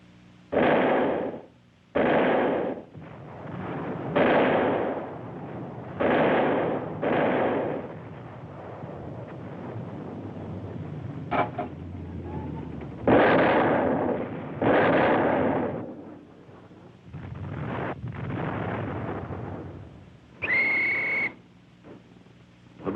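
WWII artillery guns firing on slopes in Sicily, a series of loud, heavy booms at irregular intervals, each with a rumbling tail, and a brief whistle near the end.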